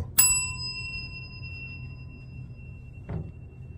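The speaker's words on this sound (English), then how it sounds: "Let's ring the bell." A counter bell in a courthouse struck once, a bright near ding that rings out and fades, followed by a softer low knock a few seconds later in a quiet room.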